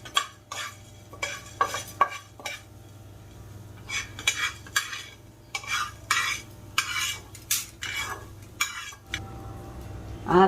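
Ingredients for thotakura pachadi fry in a pan while a spoon stirs and scrapes in irregular bursts of metallic clinks, over a faint, steady sizzle.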